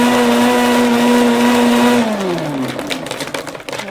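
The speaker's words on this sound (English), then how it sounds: "I have a very high-end blender here, which is nice." A high-end blender crushing ice runs at a loud, steady motor whine, then its pitch drops as it slows down, leaving clattering ice and rattling noise at the end.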